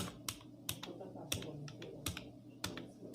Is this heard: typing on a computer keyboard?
yes